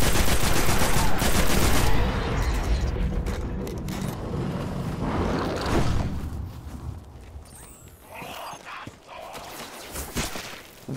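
Gunfire in the video game Destiny on PS4: loud rapid bursts of automatic fire dominate the opening seconds, then thin into scattered shots, mechanical clicks and footsteps as the fighting tapers off.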